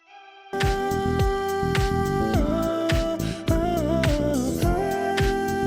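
Vocals run through the Baby Audio Humanoid plugin with the formant raised fully, blended into a wide synthesized layer over a dense, loud backing mix with a steady beat.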